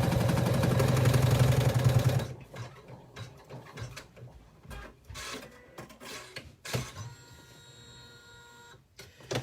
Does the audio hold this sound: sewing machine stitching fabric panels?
yes